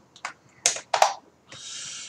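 Quick bursts of keyboard typing come in short clusters of clicks, close and crisp, with a brief pause between bursts and a final longer run of keystrokes.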